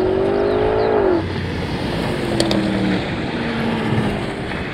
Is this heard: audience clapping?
no